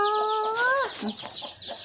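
Hen of a Thai fighting-cock breed clucking near her newly hatched chicks, a clear close rising call followed by softer scattered clucks and chirps.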